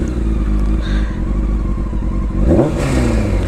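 A 1999 Honda CBR 600 F4 sport motorcycle idles with a steady, close engine rumble, then its revs climb sharply for a brief throttle blip near the end.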